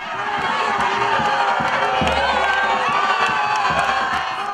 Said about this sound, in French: le couple présidentiel s'est offert un bain de foule avec la communauté congolaise vivant en Côte d'Ivoire